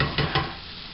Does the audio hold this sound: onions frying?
yes